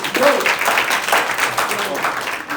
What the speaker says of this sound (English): let's clap it up for Brother Kelly Harris